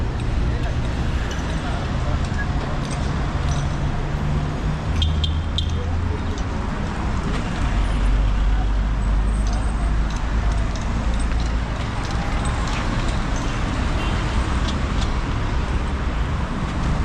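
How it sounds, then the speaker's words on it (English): Steady road traffic fills a street in Addis Ababa, a continuous broad rumble of engines and passing cars, fairly close and loud throughout with no pause. "Just have to wait for the traffic to clear."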